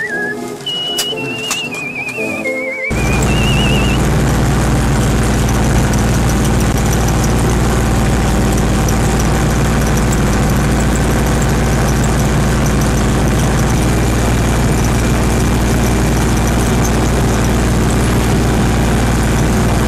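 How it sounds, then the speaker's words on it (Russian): GAZ jeep (gazik) engine with its muffler torn off, running loud and raw as a steady, heavy low drone that kicks in after a few seconds of quieter sound and continues without pause. "Для увеличения мощности двигателя я оторвал на гравейке глушитель газика"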